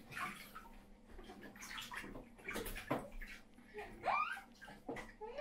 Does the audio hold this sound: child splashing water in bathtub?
yes